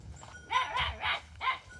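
A puppy barks several times in quick, fairly loud yips close by, with a low background rumble at an outdoor camel wrestling event in Turkey.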